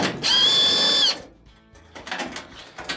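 A power driver whines in one loud, steady burst lasting under a second as it backs a green ground screw out of a GE dryer chassis, followed by quieter clicks and handling noises.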